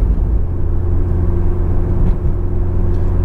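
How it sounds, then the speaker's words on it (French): Sporty 4-cylinder engine of a 1994 BMW 318is E36 Class II Motorsport saloon, a steady loud low drone heard from inside the car while cruising, with no clear revving. "on a un niveau sonore qui s'élève, qui est un niveau sonore de bruit de 4 cylindres un petit peu sportif"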